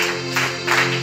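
A church congregation claps and cheers in praise of Jesus, a dense, steady wash of applause and crowd noise with no individual voice standing out.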